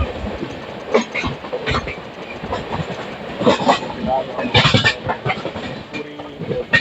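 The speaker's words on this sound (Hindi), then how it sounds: "पूरी से लोकमान्य तिलक आने वाली ट्रेन है।" The Puri–Lokmanya Tilak express train rolls past with steady, loud rumbling and clattering wheels, while a voice talks over the noise.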